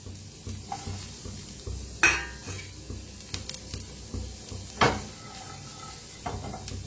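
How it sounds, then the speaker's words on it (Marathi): Garlic and onion roasting in a hot kadai, with scattered spatula scrapes and stirring clinks over a quiet background, a couple of sharper metallic knocks standing out. "लसूण आणि कांदा का नाही हलकासा भाजून घेऊया आपण।"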